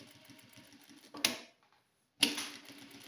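An industrial straight-stitch Maqi sewing machine running in rapid ticking bursts, stopping briefly mid-seam for an intermediate presser-foot lift, with sharp clacks as it stops and restarts.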